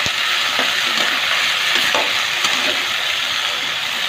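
Large pieces of pumpkin fry in a pressure cooker with a loud, continuous sizzle and occasional stirring clicks, close up and without talk.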